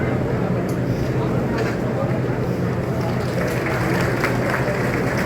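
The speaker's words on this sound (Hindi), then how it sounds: "जोरदार तालियों के साथ माननीय मुख्यमंत्री जी का जिला में पहुंचने पर स्वागत करते हुए" Crowd applause welcoming the Chief Minister at a district gathering: a steady wash of clapping and crowd noise runs throughout, with a voice speaking over it.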